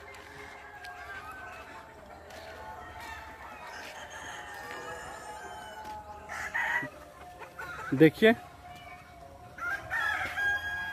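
Country chickens cluck and squawk inside a netted enclosure on a farm in Bihar, India, under a voice, then a rooster crows loudly and close, followed by more clucking.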